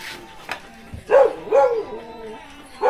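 A large pet dog barks a few times close by on a street, loud yelps with short gaps between them, with faint background noise.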